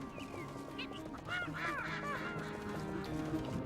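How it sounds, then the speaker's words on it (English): A duck in the Pikmin 2 video game calls with a run of loud nasal honks and quacks that come close together, clear and near against a soft game background. "there's like a duck or something around here that is just making itself heard very loud and clear"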